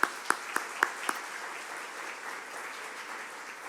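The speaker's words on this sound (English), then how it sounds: "Please help me give them a round of applause." Audience applause for a city's board, volunteers and staff at a State of the City event in Perris, opening with a few distinct sharp claps, then settling into steady, moderately faint applause from a crowd.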